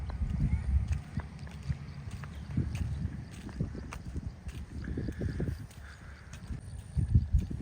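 A newly bought horse walks calmly on its first ride, hooves clip-clopping in a slow uneven rhythm, fairly close but soft, with faint background noise and little talk.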